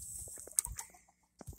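Chickens kept alongside ducks give a few short, soft clucks at close range, with brief scattered calls separated by quiet gaps.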